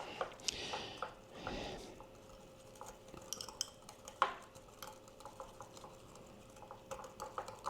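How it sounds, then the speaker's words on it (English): Olive oil and vinegar dressing whisked in a small cup, light clinks and scraping taps of utensil against the container, close and quiet, with a few sharper knocks and no speech. "we're just gonna add 2 parts olive oil and then give it a good mix"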